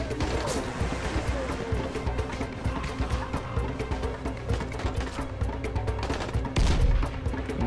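Firecrackers burst in quick, irregular volleys of sharp cracks in the zombie video game Dying Light: The Following, loud and near, with a heavier boom toward the end and a voice talking now and then.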